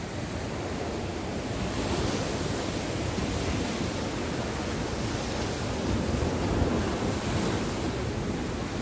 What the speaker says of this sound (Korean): 지금 파도가 장난 아니지요